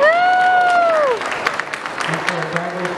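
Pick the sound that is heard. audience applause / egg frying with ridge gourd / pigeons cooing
audience applause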